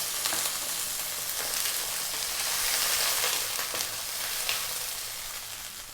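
Soy sauce goes into a hot pan of sweet and sour tofu vegetables, giving a continuous close sizzle with faint stirring scrapes, easing slightly toward the end.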